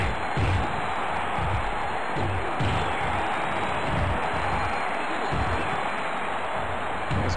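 Crowd noise from a Ring of Honor wrestling match in the video game Wrestling Revolution 21, a steady roaring arena crowd with periodic swells, continuous and fairly loud throughout.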